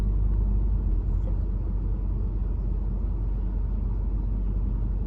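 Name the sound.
SEPTA city bus passing by on Broad Street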